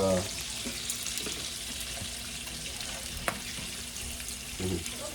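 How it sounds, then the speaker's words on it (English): Steady sizzling of bacon frying in hot oil, with a few faint clinks of utensils throughout. "I'm going to try and just cook these up in oil"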